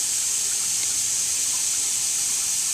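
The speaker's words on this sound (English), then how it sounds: "See, the water's already running?" Water runs steadily from a sink tap, a constant, loud, even hiss of flowing water with no breaks and no voices.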